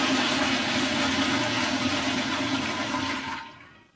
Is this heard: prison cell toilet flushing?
yes